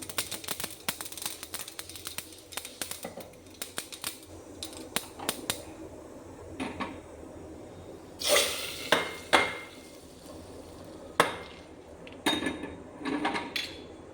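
Mustard seeds crackle and pop in hot coconut oil while making a Kerala green gram (cherupayar) curry, a scatter of sharp, irregular snaps that thicken into denser bursts midway, close and fairly quiet with no talking.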